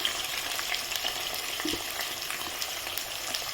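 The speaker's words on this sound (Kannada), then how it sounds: "ಈಗ ಫ್ರೈ ಮಾಡಬೇಕು ಬದ್ನೆಕಾಯಿ ಸ್ವಲ್ಪ ಅರಶಿನ ಹಾಕೋಬೇಕು ಈಗ ಫ್ರೈ ಆಗೋ ಮುಂದೆ" Brinjal (eggplant) pieces fry in hot oil in a pan with turmeric, giving a steady, close crackling sizzle with small pops throughout and no voices.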